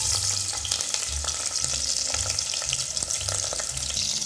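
Onions, green chillies, cardamom, cinnamon and cloves frying in a pan, a steady crackling sizzle broken by rhythmic scraping strokes of a spoon stirring, close and continuous without any talk.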